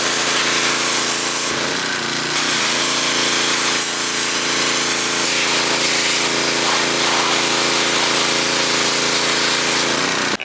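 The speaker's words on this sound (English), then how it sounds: "we're gonna power wash this thing" A pressure washer sprays a Honda Cub EZ90 parts bike with a loud, continuous hiss and roar up close, and the tone shifts briefly as the spray moves across the parts.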